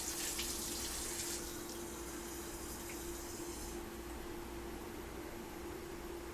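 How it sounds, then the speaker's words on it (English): Tap water runs steadily into a coffee carafe in a kitchen, a continuous close hiss and splash with a brighter gush at the start, no talk. "I have to fill this carafe up with water."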